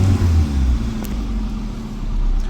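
A Hyundai i10 engine runs smoothly without misfiring, a steady, loud mid-pitched hum heard close by with a slight rise near the start and no talk over it.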